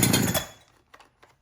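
A Holzforma G372xp chainsaw engine on its first start fires briefly and loudly, then cuts out within half a second, followed by a few faint knocks and clicks.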